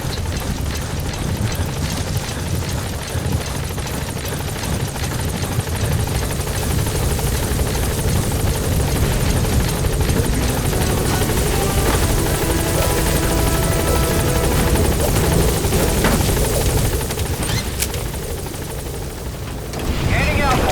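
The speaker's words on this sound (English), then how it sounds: "Support helicopter is en route." A support helicopter in Metal Gear Solid V: The Phantom Pain flies close by, its rotors making a loud, steady, throbbing roar that holds for the whole stretch without letting up.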